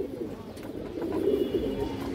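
A white female pigeon of a line breed gives a short, soft coo near the middle of a quiet stretch, close by and with no talk over it.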